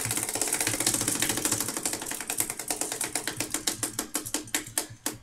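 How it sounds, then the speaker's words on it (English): A prize wheel spins with a dense, rapid ratcheting click that steadily slows, the separate ticks spacing out and growing louder toward the end as the wheel nears its stop. "let's spin the wheel and give away a team for free in this break"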